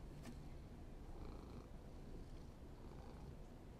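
Pinky the cat purring softly and steadily, a faint continuous low rumble close by with no other sounds.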